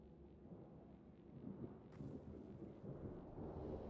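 In Mass Effect Andromeda, a thunderstorm sounds as constant rain hiss under a low, swelling rumble of thunder that grows louder toward the end, with a sharper crack midway; no one speaks.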